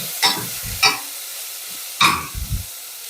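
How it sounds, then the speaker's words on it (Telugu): Chopped onions and tomatoes cooking in a pan for a bombay chutney, with a few short scraping stirs and soft sizzling bursts separated by quiet gaps. "టమోటాలు వేసుకొని ఒక 2 minutes మగ్గనిద్దాము."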